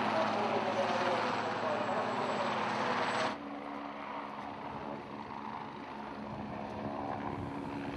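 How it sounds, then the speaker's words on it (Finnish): Finnish Border Guard helicopters demonstrate sea rescue work at the Turku air show, giving a loud, steady rotor and engine roar that drops sharply to a quieter distant drone partway through. "Rajavartiolaitoksen helikopterit demonstroivat muun muassa meripelastustehtäviä."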